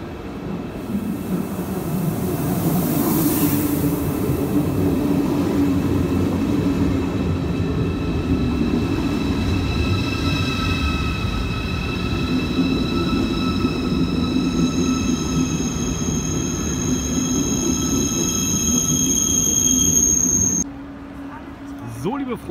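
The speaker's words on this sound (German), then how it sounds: "da kommt schon mal das Objekt der Begier, unser ICE" An ICE high-speed train heading toward Dortmund arrives at a station with a loud, steady rolling rumble and whine that swells and then drops off sharply near the end.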